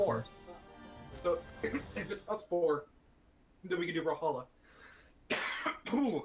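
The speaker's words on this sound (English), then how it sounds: "That was cough. That was a weird cough," People chat casually, and a short cough breaks out among the talk near the end.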